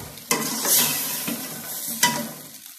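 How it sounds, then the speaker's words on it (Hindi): Tomatoes, peas and potatoes sizzle in a pan while a spoon stirs them, giving about three distinct scraping strokes over a steady close frying hiss. "अब इनको हम भून लेंगे अच्छी तरह से।"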